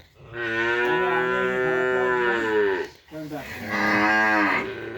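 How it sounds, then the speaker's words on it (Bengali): Two long, loud moos from a cow on a cattle farm follow one after another, deep and drawn out, close by and clear. "সবগুলো গরু ডাকাডাকি শুরু করে"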